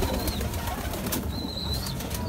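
Madrasi pigeons kept for sale in Bindapur, Janakpuri, give thin, brief calls twice against a steady, noisy outdoor background, with no talking.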